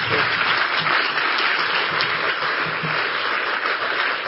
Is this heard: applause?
yes